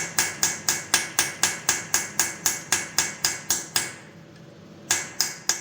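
A hammer strikes a brass punch against a corroded stud on a Harley Dyna motorcycle in a fast, even run of sharp metallic blows. After a brief pause, a few more close, ringing hits follow.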